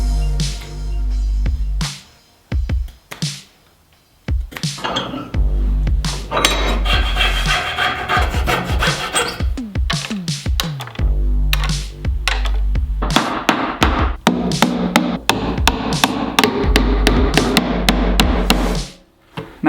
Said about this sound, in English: I'm gonna try carving down some pins and driving them in.